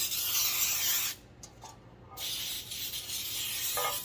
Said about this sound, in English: lightly give it a spray